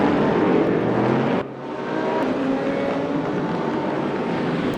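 GT3 race cars, an Audi and a Callaway, race at the Nürburgring in RaceRoom, their engines droning loud and steady with a sudden dip as one shifts, then climbing again, no voices.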